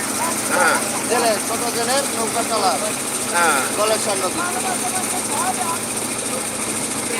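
A fishing trawler's engine drones steadily on the sea as the boat approaches fast, a continuous loud hum under several people talking.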